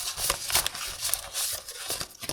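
Paper surprise packets rustling and crinkling as they are shuffled by hand, a close, continuous patter of soft paper sounds.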